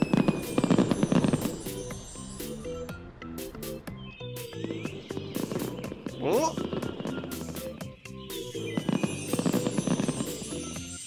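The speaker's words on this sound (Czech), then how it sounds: "Vidíš ten ohňostroj, Karle?" Fireworks from an animated children's cartoon go off in repeated crackling bursts and sharp pops. They come in clusters over several seconds, fairly loud, with busy background sound between them.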